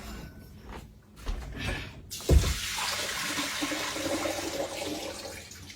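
Vinegar pours off a batch of strawberries into a sink, starting with faint rustling, then a sudden splash that settles into a steady rushing flow of liquid draining for several seconds.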